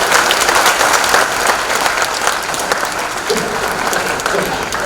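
Loud, dense applause from a theatre audience at a Bengali stage play performance, steady clapping filling the whole stretch without a break.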